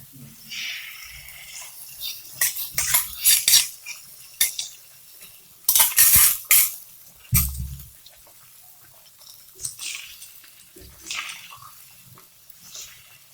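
Eggs being mixed with a spoon in a bowl for an omelette, heard as irregular clinks and scrapes of metal against the dish, with some louder bursts, close by and without talk.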